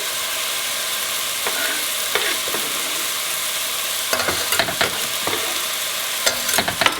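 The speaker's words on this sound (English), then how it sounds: "And we can give this a quick stir." Chopped celery with its leaves sautéing in a pan, for a pasta with red clam sauce, gives a constant close sizzle broken by several sharp scraping stirs, with no voices.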